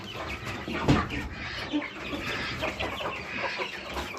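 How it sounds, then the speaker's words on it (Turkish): Chickens cluck in a dense, noisy backdrop, a flock heard close over constant rustling and hiss, with a brief sharper call near the start. "şimdi tavuklarımızı yedirelim"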